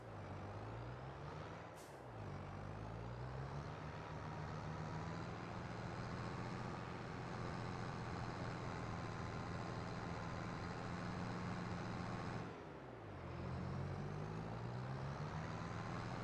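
A vehicle pulls a trailer in Farming Simulator 22, its engine a steady, continuous drone that briefly dips twice as it maneuvers, with no one talking.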